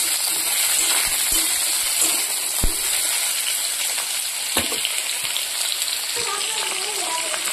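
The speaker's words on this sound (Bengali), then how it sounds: "পরে দিকে আমি আলু কাঁচা ভেজে নিচ্ছি।" Raw potatoes fry in a pan with a steady, fine sizzle and crackle, punctuated by a few sharper pops, close and fairly quiet for several seconds with no one speaking.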